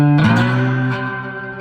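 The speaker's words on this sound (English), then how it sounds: "if I did have a lot of distortion on it, I'm going to switch over here with more crunch" Slide notes on a three-string cigar box guitar through heavy distortion crunch: several overtone-rich sustained tones, sliding upward early on, then ringing together and slowly fading, loud and alone.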